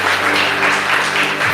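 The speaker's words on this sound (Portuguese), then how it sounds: "Você pode aplaudir ao Senhor por isso?" A church congregation claps and applauds together in a continuous wash of hands, loud and close, with no talk over it.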